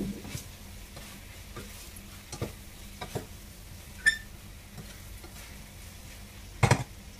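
Vegetables with seasoning are stirred in a pan for coconut-milk ginataang gulay with dried squid, a faint sizzle broken by soft scraping strokes and a few louder clacks of utensil on pan.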